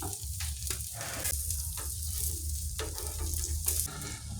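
Stuffed milkfish (bangus) grilling over an outdoor grill gives off a steady, close sizzle with a broad hiss and scattered crackles, running on its own with no talk.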